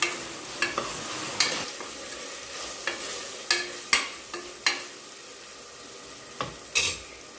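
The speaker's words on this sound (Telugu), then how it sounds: "ఇప్పుడు అల్లం వెల్లుల్లి పేస్ట్ వేసుకోవాలి. ఇది కూడా ఒకసారి కలబెట్టుకోవాలి." Ginger garlic paste being stirred into goat head curry in a pan, with spoon scrapes and clicks against the pan in irregular strokes over a soft background sizzle, close and alone.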